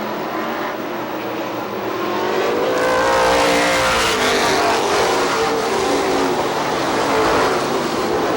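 Stock cars roar around the oval at Star Speedway in New Hampshire as the green flag drops, a dense engine drone that swells as the pack accelerates and passes, loud and sustained throughout.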